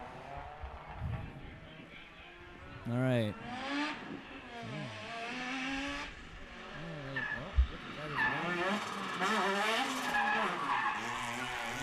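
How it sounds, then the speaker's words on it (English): Race cars skid and squeal their tires at a Spec-D Zestino Tires drift round in 2017, with engines sweeping up and down through a busy mix, while someone talks over the action. "sounds like cars are moving."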